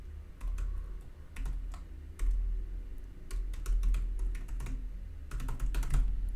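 Fingers type on a computer keyboard in quick irregular bursts of close, crisp key clicks separated by short pauses, with a low background rumble and no talking.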